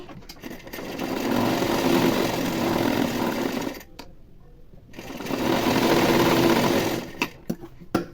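A sewing machine stitches lining onto an elbow-high puff sleeve, running steadily and close in two long bursts separated by a short pause, with no talking.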